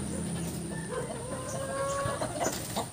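Domestic chickens cluck steadily at close range on a small farm, a dense chorus of overlapping calls with a faint crow mixed in, all without speech.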